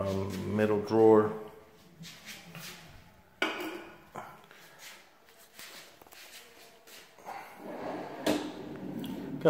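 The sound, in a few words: custom cabinet drawer opening and closing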